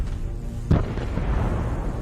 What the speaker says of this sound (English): This gave the artillery time to take aim and destroy the armored vehicle.